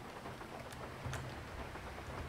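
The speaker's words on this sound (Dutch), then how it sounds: "Kijk hoe dik dit, die regen is." Heavy rain pouring in a racing video game, a dense continuous hiss of falling water with a couple of brief sharper spatters standing out, steady and fairly quiet.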